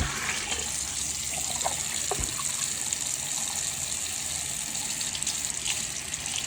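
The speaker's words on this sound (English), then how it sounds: "I'm going to turn on the water." Lukewarm water runs steadily from a tap into a sink, a continuous hissing gush with a couple of faint knocks near the start and no talking.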